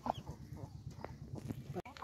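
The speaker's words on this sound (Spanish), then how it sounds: "Ya la Bonita Copetona ya está comenzando a nacer los huevitos. Tiene dos pollitos" Newly hatched chicks and a hen peep and cluck in a nest, with short high chirps scattered over low background noise, close and fairly quiet.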